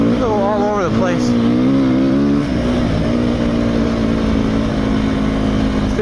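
A 2017 Beta 390RR dirt bike rides through sand, its engine note wavering and revving up and down at first, then settling into a steady, close, continuous drone.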